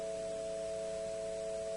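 Major triad of three steady pure sine tones sounding together, held continuously and evenly at moderate loudness with no other sound.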